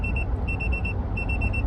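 A low-cost TPMS tire pressure monitor alarm gives bursts of rapid high electronic beeps, three separate clusters of short pulses over a constant low background rumble, with no talking.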